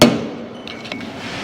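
A hammer strikes once, loud and close, knocking out a part during work on a 1956 Chevy truck, the sharp metallic ring decaying, then softer faint clinks follow.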